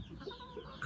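Backyard chickens cluck softly while pecking at leftover vegetable noodles in a countryside yard, a faint, continuous murmur of low clucks across the short moment.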